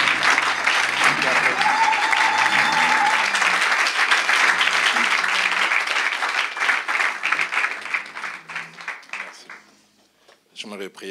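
A church congregation applauds and cheers for an apostle, a dense, loud wall of clapping and voices that holds steady for most of the clip before thinning out and fading near the end.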